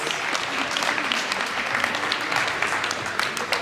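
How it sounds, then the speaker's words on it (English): Dense, steady applause from a large crowd fills the whole stretch, loud and continuous, with a few voices faintly mixed in. "give yourselves a huge round of applause"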